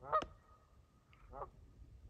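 Canada geese honk a few times, a pair of nasal calls at the start and another honk a second later, fairly distant and clear against a quiet background.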